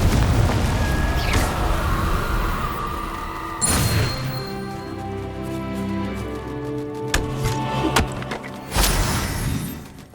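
Blasting-spell explosions in Hogwarts Legacy, several booming bursts with crashing debris spaced across the stretch over a busy game soundscape, loud and close.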